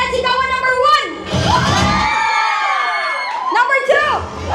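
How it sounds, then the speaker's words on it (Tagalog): A wedding crowd at a fiesta event shouts, whoops and cheers in loud overlapping bursts, with high excited voices rising and falling over about four seconds. "Palakpakan at sigawan number 1."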